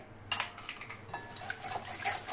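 A utensil clinks against a bowl while eggs are mixed into sugar for chocolate cake batter, with a sharp first knock followed by quieter, uneven scraping and tapping close by.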